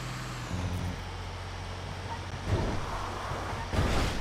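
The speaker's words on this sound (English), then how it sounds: "These stupid garbage trucks." A garbage truck in the video game GTA Online rumbles with a steady low engine drone, and two brief heavier bursts like air-brake hisses or impacts cut in near the middle and end.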